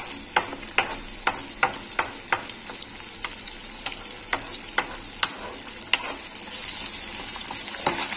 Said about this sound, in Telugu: యాక్చువల్గా ఇది నేతిలో వేయించుతున్నాను అనమాట